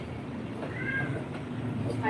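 A house cat gives one short meow, close by and clear, during a home livestream with background room noise and people talking nearby.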